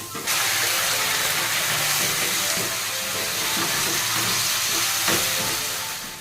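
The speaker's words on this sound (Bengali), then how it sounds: "আর এই যে টমেটো কুচি দিয়ে দিচ্ছে, আর সামান্য একটু লবণ আর একটু হলুদ দিয়ে আর সামান্য একটু জল দিয়ে দেখো কষিয়ে নিচ্ছে" Chopped tomatoes with salt, turmeric and a splash of water sautéing in a pan give off a loud, steady steam hiss that fills the whole stretch with little change.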